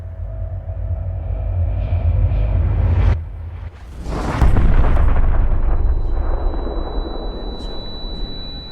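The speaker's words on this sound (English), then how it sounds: "And I hear this incredible explosion." An explosion effect for a plane crashing into a tower: a low rumble suddenly cuts off, then a loud broadband blast hits and settles into a long, heavy rumble that slowly fades.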